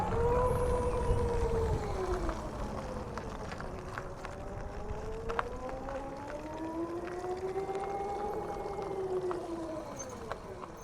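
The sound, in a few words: Royal Enfield Flying Flea electric motorcycle pulling away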